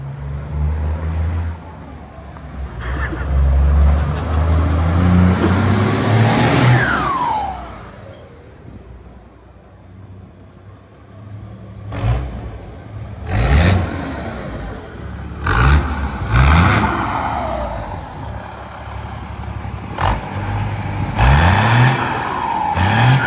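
Chevrolet Grand Blazer with a full stainless steel exhaust, its engine revved hard several times, with deep roars that rise and fall between idle stretches, loud and close.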